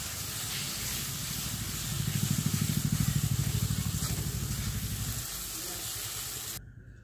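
Rui fish curry with poppy seed paste sizzles steadily in a pan as it is stirred, a close hissing bubble with a rhythmic pulsing stretch in the middle before the sound drops away at the end.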